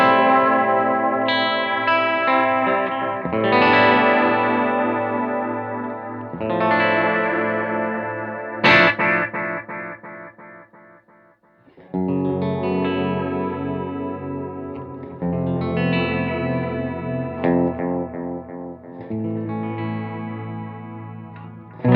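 Electric guitar through an all-analog boutique delay pedal, voiced darker like a DM2 or brighter like tape; strummed chords ring out with soft repeating echoes trailing each phrase, loud and up front, no voices.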